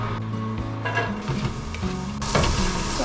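Food sautéing in olive oil in a non-stick pan over a gas stove, a close steady sizzle with stirring and scraping that grows louder near the end, no talk.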